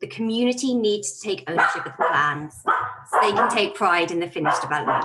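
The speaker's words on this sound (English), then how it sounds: "that's my dog barking" A dog barks repeatedly in the background while a person speaks continuously over it, the barking partly buried under the voice.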